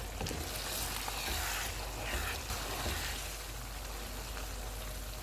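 Minced keema cooks in ghee with ginger slices and garam masala in a karahi, giving a steady, dense sizzle and crackle that runs unbroken and fairly close for the whole stretch, with no voices.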